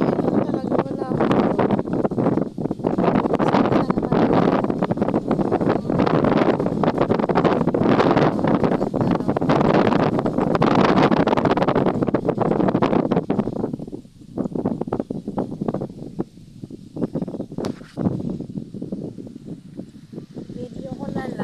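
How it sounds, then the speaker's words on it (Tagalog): Strong wind buffets the microphone in loud, continuous gusts, easing briefly near the end, with a voice talking faintly underneath. "Mahangin. Ang hangin-hangin niya."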